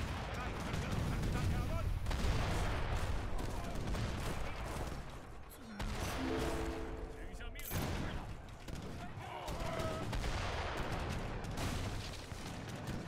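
Heavy cannon and musket fire in Age of Empires III: Definitive Edition in a 2v2 treaty battle, with dense, continuous booms and crackling volleys. Game effects and a voice come through now and then.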